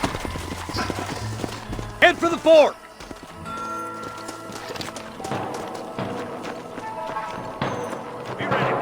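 Horses clip-clop at a trot in the Western video game Red Dead Redemption, a close, steady hoof rhythm with a brief whinny, while someone speaks over it and game music plays beneath.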